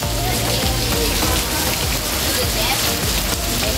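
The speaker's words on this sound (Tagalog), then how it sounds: "Umuulan." Steady rain pours down in an outdoor garden setting at a Singapore bird park, a constant, loud wash of drops hitting surfaces throughout, with no talk over it.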